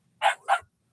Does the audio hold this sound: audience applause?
no